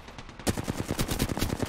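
Rapid automatic gunfire in the battle royale shooter Apex Legends, starting abruptly after a short silence and continuing as a dense run of loud, close shots.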